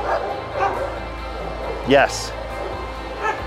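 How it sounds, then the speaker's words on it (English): A playful Border Collie lets out a sharp yip and a short bark close by, with softer whimpering sounds before and after while a person speaks briefly. "that's an amazing dog. A dog that really likes to play"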